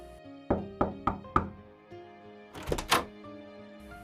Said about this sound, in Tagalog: biglang may kumatok sa pinto ng kwarto